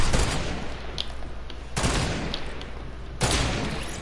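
Sniper rifle shots in a PS4 shooter game, three sharp loud cracks spaced about a second and a half apart, each followed by a short ringing decay over steady game background noise.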